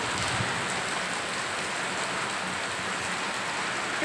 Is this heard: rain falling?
yes